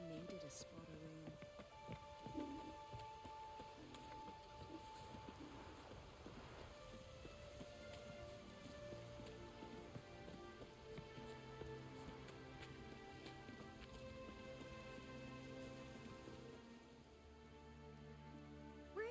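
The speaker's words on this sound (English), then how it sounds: "Maybe we needed a spot of rain." Steady rain patters and drips on surfaces in The Witcher 3 video game, a continuous soft hiss of falling drops heard throughout, fairly faint.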